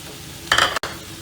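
Vegetables, including peppers, hit a hot pan and are stirred, producing a short, close burst of sizzling that cuts off abruptly after a fraction of a second.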